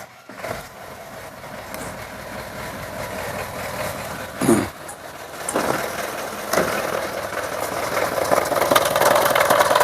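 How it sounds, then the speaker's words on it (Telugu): The diesel engine of a 2016–2017 Force Trax Toofan BS3 idles nearby after starting, a steady rough mid-pitched rumble with occasional knocks and louder surges toward the end, with no talking. "సింగిల్ సెల్ఫ్లోకి బండి స్టార్ట్ అవుతుందండి బిఎస్ త్రీ"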